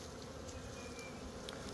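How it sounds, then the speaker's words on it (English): Honey bees fly around outside their hive, a dense, continuous close-up buzz of many wings droning steadily without pause. "so these bees are out here today"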